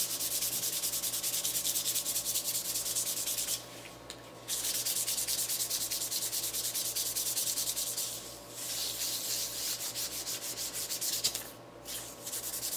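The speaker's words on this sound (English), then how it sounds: "let's just see what we can do with those micro mesh pads real quick." Steady back-and-forth rubbing as micro mesh pads sand the wooden top of a tabletop guitar music stand, close and continuous, with a few short pauses between passes.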